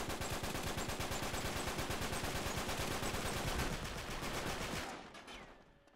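An enemy blind fires an automatic weapon in the video game Uncharted 3, a loud, rapid, unbroken burst of gunshots lasting about five seconds before tapering off into a fading echo.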